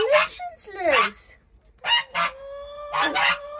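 A domestic goose brooding on a nest of ducklings gives several loud, close, nasal honks in separate bursts with short gaps between them, and no talking.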